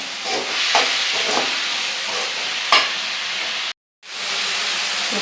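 Chopped banana flower sizzles and hisses in hot oil with onion, mustard seeds, urad dal and dried chillies, with scraping stirs at intervals and a brief silent cut near the end.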